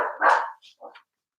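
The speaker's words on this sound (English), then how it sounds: "Apologies for the dogs making a noise." A dog barks loudly at close range in a few sharp barks, followed by two or three softer yips and short woofs before the room falls silent.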